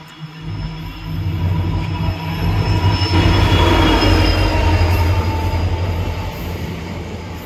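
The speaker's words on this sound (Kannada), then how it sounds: "ಇದು ಯಾವುದೋ ಬೇರೆ ಕಡೆ ಹೋಗೋ ಟ್ರೈನು ಬರ್ತಿರೋದು." A passing train pulls into Tumkur station, a loud close rolling rumble that swells to a peak midway with high wheel squeal and rail clatter, then eases slightly.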